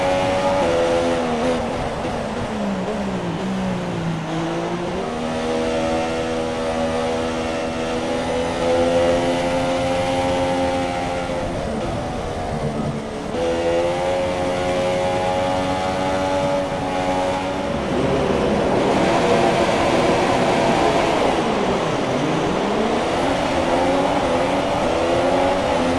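A Formula 1 car in the F1 2017 game revving at the race start, a loud high-pitched engine whine rising and falling through repeated gear shifts, close and continuous.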